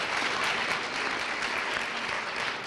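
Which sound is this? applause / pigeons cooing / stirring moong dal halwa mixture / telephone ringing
applause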